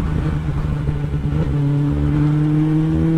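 Close up, a Kawasaki Ninja ZX10 with a straight-through exhaust runs at a choppy idle, then holds a raised, steady rev with a strong buzzing drone, loud and alone without voices.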